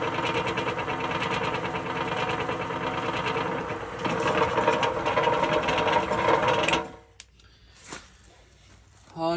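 A Thumler's Tumbler rock tumbler motor spins a barrel on a replacement belt, giving a steady close mechanical whir and rattle for about seven seconds before it cuts off, followed by a few faint knocks and handling sounds.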